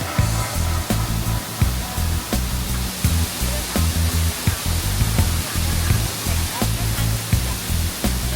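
Rushing water of a waterfall in Chiang Rai, Thailand, a steady broadband roar that fills the whole stretch, with faint voices of visitors mixed in beneath it.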